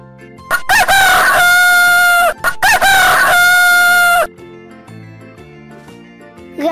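A rooster crows loudly twice in close succession, each call a long harmonic cock-a-doodle-doo, followed by a quieter stretch of soft background music.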